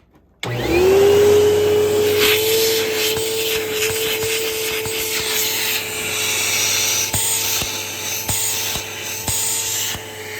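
A Kenmore bagged upright vacuum cleaner with a stiff brush roll switches on and runs steadily, a loud close motor whine holding a constant pitch, with a few faint clicks and bumps toward the end.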